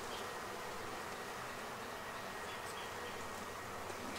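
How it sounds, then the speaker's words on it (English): Honeybees buzz around a busy beehive, a dense, steady swarm drone holding evenly throughout at moderate level with no voices. "This is a pretty busy hive."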